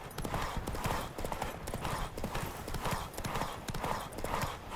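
Rapid, rhythmic hoofbeats of a galloping horse in The Witcher 3 pound steadily throughout, close and fairly loud, with a repeating cadence and no talking.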